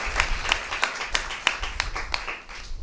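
Church congregation clapping hands together during a sermon: a brisk, steady run of sharp claps, roughly three per second, fairly close and even in loudness, with no voices over them.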